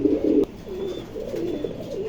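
A Pakistani Teddy breed pigeon coos close by in steady, repeated low rolling phrases, with no talking.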